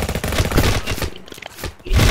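Rapid gunfire in a GTA-style mobile open-world game: a loud, dense burst of shots up front, a brief lull, then another close volley at the end.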